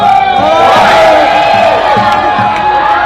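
A rally crowd of Teamsters at a Sacramento caravan cheers and shouts in a loud, sustained roar, with whoops and voices carrying over a continuous wall of noise throughout.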